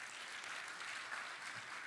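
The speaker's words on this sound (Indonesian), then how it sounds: "Beri tepuk tangan." An audience applauds during a church sermon, a faint and steady patter of clapping that lasts throughout.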